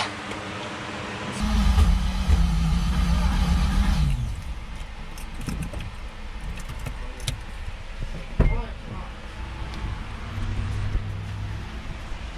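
A car with a rebuilt rotary engine being driven slowly. A loud, low engine drone rises for a few seconds, then settles to a quieter idle, with scattered clunks and rattles.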